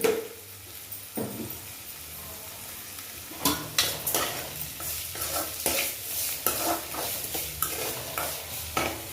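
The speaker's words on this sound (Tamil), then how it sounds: "வெங்காயம் வதங்கும் போது நான் கொஞ்சம் இந்த சட்னிக்கு தேவையான உப்பு கொஞ்சம் போட்டுக்கிடுவேன்" Onions sauté in a pan with rock salt for a Madurai-style chutney, a constant close sizzle broken by repeated scraping stirs of a spoon against the pan, with no voices.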